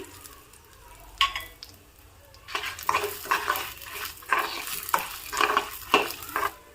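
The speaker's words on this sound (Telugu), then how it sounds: "ఈ చిన్న ఉల్లిపాయలని నేనైతే ఒక ఆరు ఉల్లిపాయలు వేస్తున్నానండి" Small onions sizzle and fry in a pan while a utensil stirs them with repeated scraping strokes, growing busier after a brief quiet start, with no talk over it.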